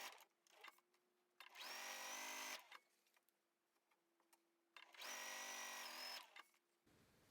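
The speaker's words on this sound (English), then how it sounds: "line up your pieces right sides together and sew directly on both diagonal lines. I like to chain sew here" A sewing machine chain-sews quilt pieces along diagonal lines in two loud, steady whirring runs of about a second each, separated by quieter handling of the fabric.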